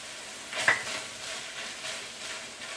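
Sofrito being stirred into drained, cooked ground beef in a pan, a quiet sizzle with a brief scraping stir and clink near the start, then a low steady fry.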